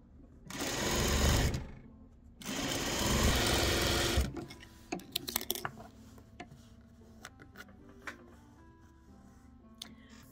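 A sewing machine stitches fabric pieces together in two loud, steady whirring runs of a couple of seconds each, followed by softer clicks and handling of fabric.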